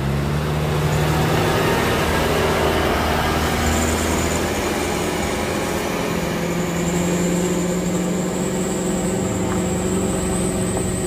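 A Mitsubishi L300 diesel engine labouring up a steep rocky hill, a loud steady low drone with strained harmonic tones and rough vibration, continuous and close throughout.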